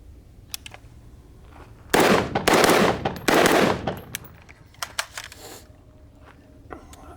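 Rapid bursts of rifle fire crack out in three dense volleys, loud and close, with sharp single reports and metallic clicks scattered before and after. The rifle is an alternative to the ACR.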